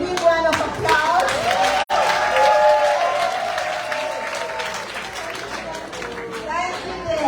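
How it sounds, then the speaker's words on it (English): A round of applause for a speaker at a women's council conference, with a crowd clapping loudly and continuously while voices chatter and call out over the clapping, which eases slightly toward the end. "Can we all give her a big round of applause?"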